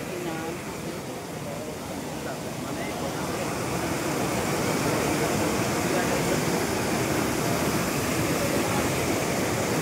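Fast-flowing water roars at Panchalingeswar waterfall in Odisha, a loud, dense, continuous rushing that swells slightly partway through, with no clear speech over it.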